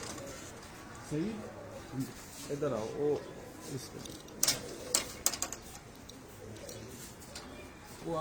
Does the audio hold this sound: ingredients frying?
no